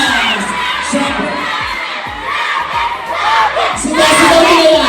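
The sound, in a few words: crowd of fans shouting and cheering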